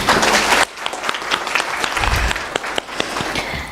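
Loud applause from the audience at a moot court competition opening conference, a dense burst that drops sharply after half a second and continues as scattered, thinner clapping with a few distinct claps.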